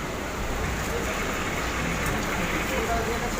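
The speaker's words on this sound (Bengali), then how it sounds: "দরজা বন্ধ, বৃষ্টি পড়ছে তো" Rain falls steadily outside a closed door during a storm, a dense continuous hiss with no distinct drops standing out.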